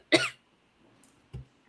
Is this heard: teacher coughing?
yes